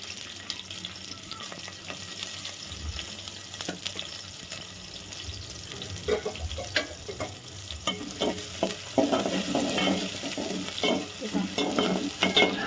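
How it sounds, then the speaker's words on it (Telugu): Chopped onion fries lightly in heated oil, a steady close sizzle broken by frequent spoon scrapes and stirring clatter that grows busier and louder toward the end. "ఒక ఎర్రగడ్డ తరిగి పెట్టుకున్నాను, అది అందులో వేసుకొని 2 నిమిషాల పాటు కొంచెం లైట్గా వేయించుకోవాలి."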